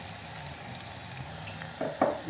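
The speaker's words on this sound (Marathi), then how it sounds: "जिरं मोहरी टाकून घेतली, कांदा टाकून घेतला।" Chopped onion frying in hot oil with cumin and mustard seeds, a close, steady sizzle with a few soft stirring scrapes near the end, no talking.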